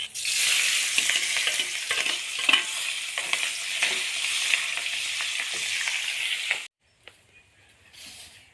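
Onions frying in a pan, a loud steady sizzle and hiss that runs evenly for several seconds, then stops abruptly, leaving near silence with a faint rustle at the end.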